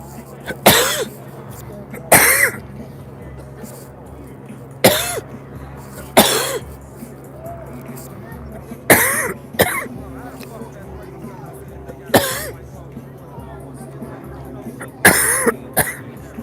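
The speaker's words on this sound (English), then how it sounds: "I'm thinking I'm coughing because it's full of, the grass is probably full of that smoke" A person outdoors near a smoky detention center coughs repeatedly in short, harsh bursts spaced a second or two apart, close up, with faint background noise between.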